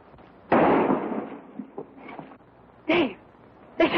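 A sharp gunshot in a western film fires loud and close, followed by fainter pops and a second bang, with brief raised voices between them.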